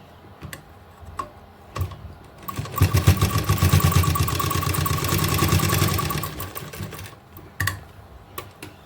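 A sewing machine stitches fabric while attaching hooks to a garment cuff, a steady fast mechanical whir lasting a few seconds, framed by scattered clicks and taps before and after.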